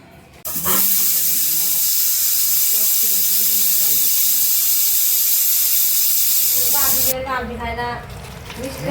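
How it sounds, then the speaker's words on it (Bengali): A pressure cooker holding village-style mutton curry lets out a loud, sustained steam hiss that starts abruptly and runs for several seconds, with someone talking underneath it and continuing after the hiss stops. "প্রেশার কুকারে তুলে নিয়েছি, এবার ঢাকনাটা দিয়ে নেবো, দিয়ে একটা সিদ্ধি মেরে নেবো"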